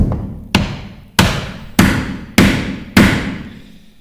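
Hammer strikes driving wooden wedges to tighten a seam in a Douglas fir plank floor in a mountain cabin: five sharp, close thuds spaced about half a second apart, each ringing briefly.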